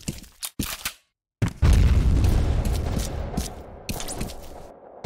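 A grenade explodes in the shooter game F.E.A.R.: a loud, deep boom bursts out after a short silence and rolls off slowly, preceded by a few sharp pops.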